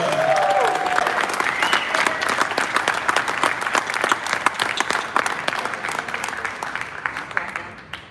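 Audience applause fills a Star Citizen live event hall, sustained and dense for about eight seconds before tapering off near the end, with a voice briefly heard at the start.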